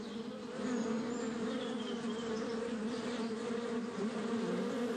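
Honeybee workers buzzing as they return to their hives laden with pollen and nectar, a dense continuous drone of many bees close by, steady and fairly loud.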